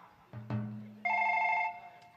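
A mobile phone rings indoors with a bright electronic tone that starts after a couple of soft knocks. It sounds close and moderately loud, then cuts off.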